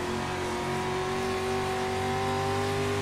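Onboard engine of a street stock race car at Myrtle Beach Speedway, a loud, steady drone with strong harmonic tones held throughout as the car is pushed sideways off a corner, close and unbroken with no talk.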